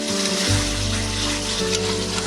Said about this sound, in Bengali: এখন একটু হালকা তেল দিয়েছে এখন আমি কচুর লুপিগুলোকে দিয়ে দিই